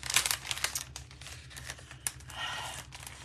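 Small plastic bags that normally hold craft dyes crinkle and rustle as they are handled up close. The crackling comes in quick irregular bursts with sharp snaps, then a steadier rustle near the end, with no talking.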